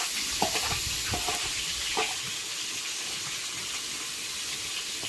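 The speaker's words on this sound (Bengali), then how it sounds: "মাছগুলো ভাজা হতে লাগুক" Fish sizzle steadily as they fry in a pan in a home kitchen, with a constant close hiss and a few utensil scrapes early on.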